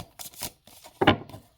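Two or three brief bursts of oracle cards being shuffled, crisp riffling rustles up close with short pauses between them.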